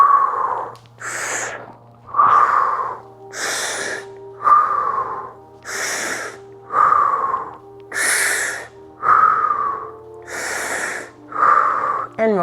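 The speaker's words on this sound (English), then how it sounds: "6 energizing breaths." Rhythmic energizing breaths during a yoga exercise, about a dozen loud, sharp exhale bursts alternating with quick inhales in a steady pulse, close and clear over faint background tone.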